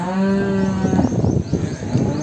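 A pregnant buffalo at a buffalo market lets out a loud, drawn-out moo close by, its deep tone trailing off into rough, breathy grunts.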